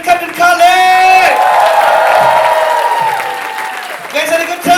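A live comedy audience in Malaysia bursts into loud, sustained applause with scattered whoops and cheers after a comedian's set, swelling and then easing off while a voice speaks over it.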